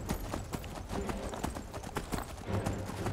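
Horse hooves clip-clop in a quick, steady trot in Skyrim, close and continuous, over a busy background.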